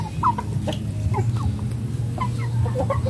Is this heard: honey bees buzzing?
no